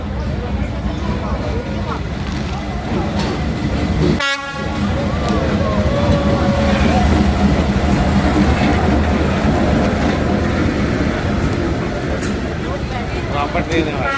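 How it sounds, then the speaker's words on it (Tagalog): A train arrives at a station in Vietnam, with a loud low rumbling rolling roar throughout and a single sharp horn blast early on, as people speak nearby over the noise. "Yan na yung tren."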